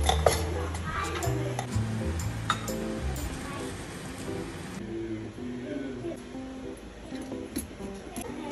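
Fried potato bhujia being stirred in a pan at home, with a soft sizzle and repeated scraping and clinking of a utensil against the pan, fairly close and steady throughout.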